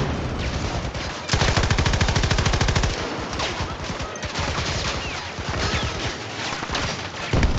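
LMG firing in the video game Battlefield 2042, rapid sustained bursts of automatic gunfire, loud and close, with brief gaps between bursts and scattered distant battle sounds.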